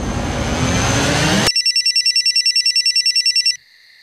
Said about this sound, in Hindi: हसमुख भाई का फोन है।